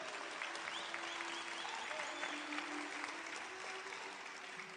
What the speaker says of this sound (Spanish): Den un aplauso al Señor Jesucristo.